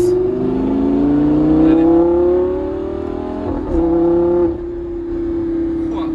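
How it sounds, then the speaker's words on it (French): Lamborghini Gallardo LP570 with its V10 engine cruising on an expressway, a loud steady in-cabin drone whose pitch climbs slowly, dips briefly mid-clip and then holds. "on aura quand même la sonorité du V10"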